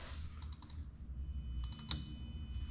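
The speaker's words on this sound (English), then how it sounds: "you're going to hear the relay click." The fuel pump relay on a Toyota JZ VVT-i engine harness, wired to a Link ECU, gives a few faint, sharp clicks in two small clusters over low background hum.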